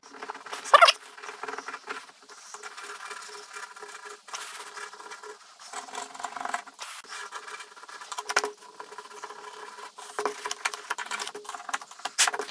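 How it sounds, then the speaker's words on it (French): A small screwdriver scraping old glue off a Peugeot trunk lock logo, producing irregular light scratching and rubbing sounds in short bursts, close and fairly quiet, with no talking. "toujours avec le petit tournevis, hein, sauf si vous avez autre chose, on va venir essayer de retirer un maximum de colle"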